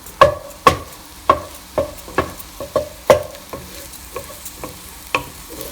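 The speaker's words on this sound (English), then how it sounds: "I'm breaking up my egg and let it cook completely." Egg stirred and fried in a hot pan for chicken fried rice: a series of sharp utensil scrapes and knocks, roughly a dozen irregular strokes, over a soft, steady sizzle, close and clear with no talk.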